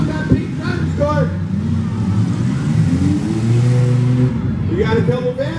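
Demolition derby cars, including vans, a Mercedes and a BMW, rev steadily through a loud, continuous engine roar that runs the whole stretch, with an announcer talking over it.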